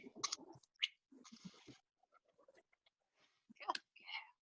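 A bird flapping its wings as it flies over a row of highly sensitive microphones gives a few soft, brushing bursts of wingbeats separated by quiet gaps.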